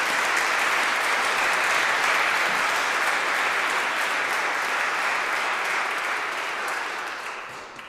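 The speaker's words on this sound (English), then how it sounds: "So can I just have you give each other a round of applause?" A church congregation at an annual church conference gives sustained, dense applause that fills the room and fades slightly toward the end.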